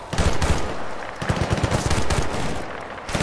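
Rapid gunfire from Battlefield: Bad Company 2 in a Bolivian jungle mission, a dense, loud stream of close shots firing almost without pause throughout.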